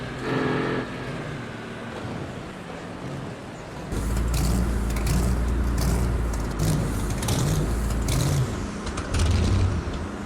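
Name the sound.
monster trucks racing on a muddy track in the rain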